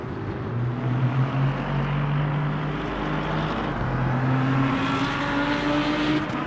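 A Lamborghini GT3 race car engine in the racing game Le Mans Ultimate drones at high revs, its pitch climbing through the gears and dropping at each shift, loud and continuous.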